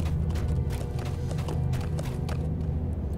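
In Lord of the Rings Online, a goat mount gallops through Moria with a continuous clatter of quick hoof strikes, near and even in pace, blended with a thick layer of game music and background tone.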